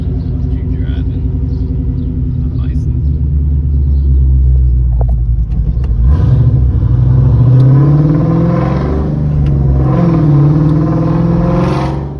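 A Ford Mustang Bullitt's engine rumbles loudly from the cabin while driving, with a deep steady drone that rises and falls as it revs and shifts through gears.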